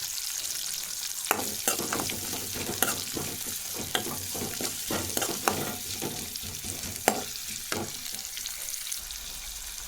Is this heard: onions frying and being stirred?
yes